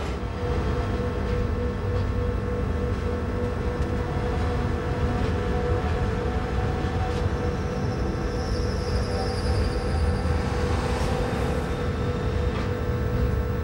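Glacier Express train hauled by a Furka locomotive with a restaurant car, running out of the station: a steady low rumble with constant drone and faint high whines, continuous throughout with no talk.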